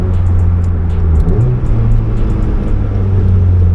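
A car engine hums steadily up close, its low drone rising in pitch partway through as it accelerates.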